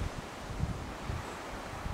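Wind buffets the built-in microphone of a Canon LEGRIA FS200 camcorder outdoors, a low, rumbling, fluttering noise with brief gusts, faint and steady, no talk.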